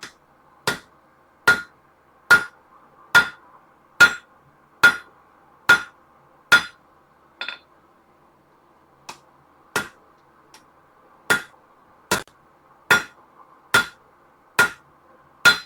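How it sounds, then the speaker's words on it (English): Hammer blows ring out on hot metal while reforging a gardening trowel at the anvil, loud and close, struck in a slow steady rhythm of about eighteen sharp metallic hits with a short pause midway and no talk. "So I'm hammering down at the base to kind of straighten this out"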